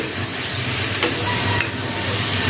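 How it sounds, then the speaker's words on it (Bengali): Chicken and sliced bottle gourd sauté in a hot pan, giving a steady loud sizzle with a few spatula scrapes and stirring clicks throughout, no voices. "এখন সুন্দরভাবে মাংস এবং লাউ কষিয়ে নেব।"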